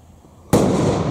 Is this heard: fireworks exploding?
yes